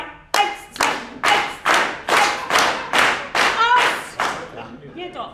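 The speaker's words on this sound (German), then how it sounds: "Jetzt klatscht hier jeder so, als ob er innerlich mitmarschiert" An audience claps in unison to a steady marching beat, about ten broad, ringing claps at even intervals a little over half a second apart, loud and close with no talk over them.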